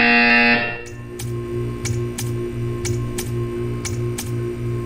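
A short high tone cuts off, then a low electronic buzzer from the video game Portal 2 pulses rhythmically about twice per second with faint ticking clicks above it.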